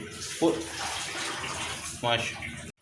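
Water is poured into a pot of mutton for a salted meat roast, a continuous splashing pour close by, with brief vocal sounds at its start and near its end.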